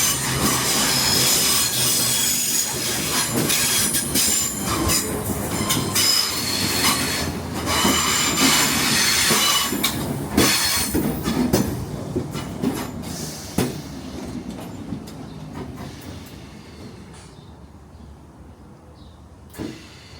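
A ScotRail train at a station rumbles and clatters loudly, with squealing wheels and metallic scraping, then gradually fades toward quiet with a few scattered knocks near the end.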